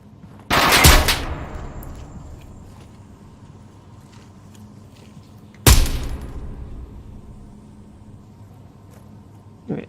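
Two loud, separate semi-automatic gunshots ring out a few seconds apart in the VR shooter Onward, each a sharp crack with a short decaying tail, followed by a faint third report at the very end.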